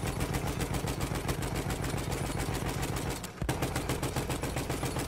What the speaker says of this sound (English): See where I'm shooting?